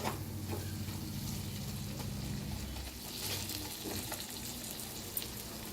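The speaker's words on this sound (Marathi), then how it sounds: "त्याला बी मिक्स करूया" Spiced green chillies fry and get stirred in a pan, a steady close sizzle with soft scraping and occasional crackles, no voices.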